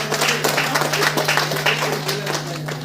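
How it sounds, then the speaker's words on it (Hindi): Applause at a DXN women's meeting in Khalilabad, a crowd clapping steadily and fairly loudly throughout under a constant low hum, with some voices mixed in. "उनके लिए एक जबरदस्त ताली होनी चाहिए"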